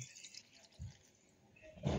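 A small amount of water is poured and splashes into a blender holding moringa leaves, with brief faint trickles and a louder pour at the end.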